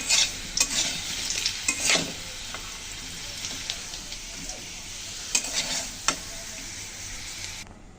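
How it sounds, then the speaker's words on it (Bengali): Potatoes fry in hot oil in a pan with a steady sizzle, broken by scraping clinks of a spatula stirring them. Close and fairly loud, with no talking. "ভালো করে ভেজে নেব আলুগুলো লাল লাল করে"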